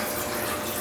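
Liquid draining off a batch of homemade Korean rice wine (makgeolli): a steady, close rush of running, splashing liquid, heard alone and without a break.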